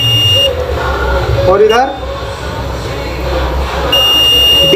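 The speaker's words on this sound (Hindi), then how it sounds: "बीप भी दे रहा है और रीडिंग भी दे रहा है" A multimeter in continuity mode gives steady electronic beeps while its probes test a shorted capacitor on a mobile phone board, a tone holding at the start and again near the end, with someone speaking over it.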